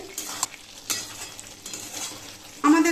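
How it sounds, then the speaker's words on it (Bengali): Papaya and potato curry with sugar stirred in a pan: soft scraping strokes and light sizzling, a few utensil knocks, ending in a sharp metallic clatter. "চিনিটাও সব কিছুর সাথে একটু মিশিয়ে দেব এইভাবে নেড়ে চেড়ে"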